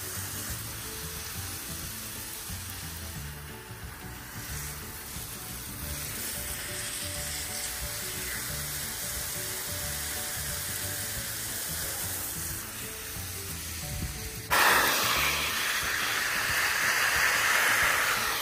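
Water from a hose sprays onto hot plants in a vegetable garden, giving a steady hissing rush that runs throughout and grows louder and brighter near the end.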